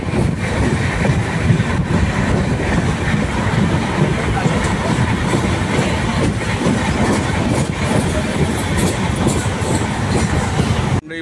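A Konkan Railway passenger train running on the Mumbai to Goa route, heard from inside a coach by an open window on a cool morning; loud continuous rumble and clatter of wheels on track throughout.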